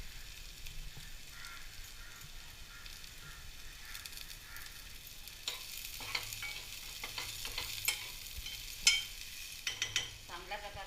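Dry coconut fries quietly in a pan for Agri-style mutton, a soft continuous sizzle that grows busier toward the end with clustered scraping stirs and a few sharper clicks.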